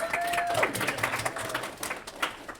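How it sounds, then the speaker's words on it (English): Scattered applause from a small audience at a research mentorship group presentation, with claps and a few cheers over a steady crowd bed, near and moderately loud, a whistle-like tone near the start. "clap it up."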